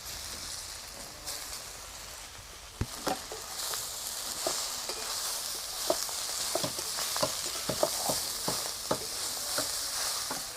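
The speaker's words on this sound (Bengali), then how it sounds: "আর হলুদ গুঁড়ো এবারে এর মধ্যে দিয়ে দিব এই গিমা শাক" Gima greens frying with salt and turmeric in a pan, a continuous crackling sizzle broken by repeated clicking stirs and scrapes of the spoon.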